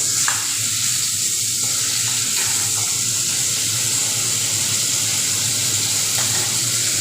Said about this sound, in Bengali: এবার ভালো করে নেড়ে চেড়ে পেঁয়াজটা আমি ভাজা ভাজা করে নিব একটু